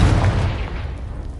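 A Confringo fire spell blast in Hogwarts Legacy, one deep booming burst that hits hard at once and rolls off into a low rumble.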